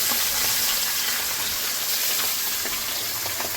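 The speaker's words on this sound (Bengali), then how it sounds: "এরকম করে সবগুলো ভেজে নেব।" Small Bengali fish fry in hot oil in a home kitchen, giving a loud, close, continuous sizzle with crackling pops throughout and no talking.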